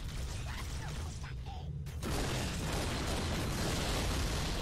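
A grenade exploding in the Halo CE game: a sudden loud burst about halfway through that swells into a sustained, noisy rumble through to the end.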